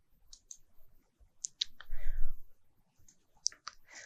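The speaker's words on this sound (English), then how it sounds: "If you want to remove objects from the selection, then hold down the Shift key and click" Computer mouse clicks while selecting objects in RFEM structural software, a few sharp, crisp clicks scattered across a quiet background, with a short burst of faint muffled sound in the middle.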